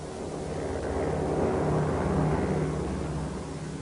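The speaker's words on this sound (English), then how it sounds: "If that was a supply plane, we couldn't take a ruddy chance on him missing us." A propeller supply plane drones overhead, its low engine hum swelling to a peak and fading slightly as it passes, steady and moderately loud with no talk.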